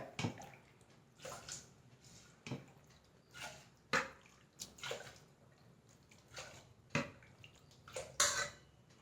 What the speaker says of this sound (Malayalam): അതിലേക്ക് നമുക്ക് ഇനി ആവശ്യത്തിന് ഉള്ള വെള്ളം ഒഴിച്ചു കൊടുക്കാം